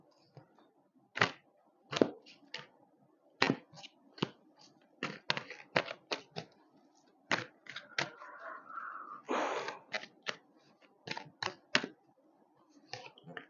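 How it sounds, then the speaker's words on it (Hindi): Tarot cards are reshuffled by hand, giving a series of sharp, separate snaps and flicks in an irregular rhythm, close and quiet, with a short sliding riffle in the middle. "मैं कार्ड्स फिर से लेती हूँ, आई थिंक कार्ड उल्टे पुल्टे हो गए हैं बहुत ज्यादा।"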